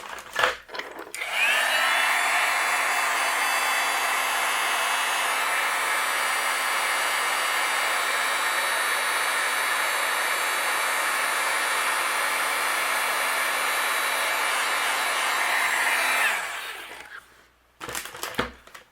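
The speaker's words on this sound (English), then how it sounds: "I'm going to melt this with my heat gun" A heat gun melting white embossing powder on dark cardstock switches on with a click, then blows a loud, steady whirring hum close by for about fifteen seconds before cutting off, followed by brief handling clatter.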